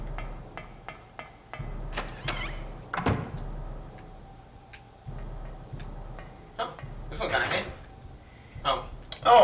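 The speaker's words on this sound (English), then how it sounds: "Oh, it's a door. It's locked." Locked door in Silent Hill being tried, giving a series of sharp rattling clunks and knocks in short bursts, with scattered thuds and a low ambient hum around them.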